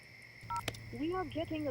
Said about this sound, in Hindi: तुम चिंटू को फोन लगाओ